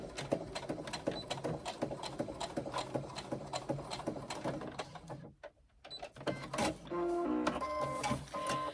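A sewing machine stitches a crossbody bag just above a cut, sewing through the back piece, in a fast, steady rhythmic run close by, with a brief pause midway before stitching resumes at a denser pace.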